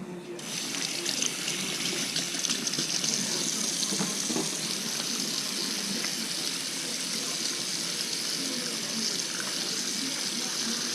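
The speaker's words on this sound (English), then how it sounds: "we must wash our hands." Tap water runs steadily into a sink during handwashing before cooking kimchi fried rice, a close, continuous hiss and splash that starts abruptly and holds level throughout.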